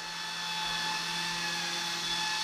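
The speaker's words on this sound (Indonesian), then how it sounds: "Ini beneran kayak helikopter. Kayak helikopter militer lagi terbang ya." A small Eachine E120 toy RC helicopter flying indoors whirs with a steady, high-pitched motor whine and buzzing rotor hum, continuous and fairly close.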